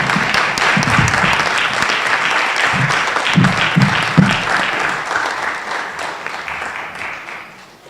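Audience at a high school strings concert applauding in a sustained wash of clapping with a few louder individual claps, fading toward the end.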